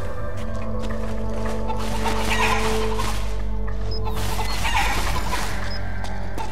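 Chickens cluck in the video game Metal Gear Solid 4, with scattered clucks and squawks over a loud, constant low rumble and other game sounds.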